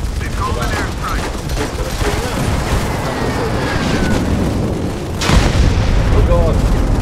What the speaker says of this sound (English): They've called an airstrike.